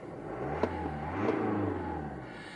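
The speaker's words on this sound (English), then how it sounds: "Let's just start the engine." A BMW 320d diesel engine runs on its own, starting with a couple of sharp clicks and then settling into a low, steady rumble that swells slightly as it revs.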